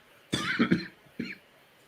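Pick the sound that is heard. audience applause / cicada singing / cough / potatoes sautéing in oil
cough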